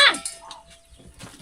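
A broiler chicken in a village clucks loudly in a short, sharp burst at the start, then trails off into faint, scattered rustling.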